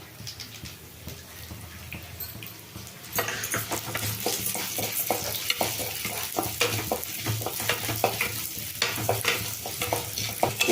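Chana dal and urad dal frying and being stirred in a pan with dried chilli, curry leaves and coriander seed, a faint sizzle that jumps louder after about three seconds into steady crackling with repeated scraping stirs.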